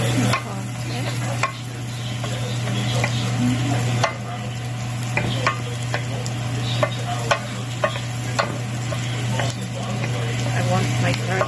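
Onions stir-frying in a pan while cooking pancit canton, a steady sizzle running throughout with scattered clinks and scrapes of stirring, and a low constant hum underneath.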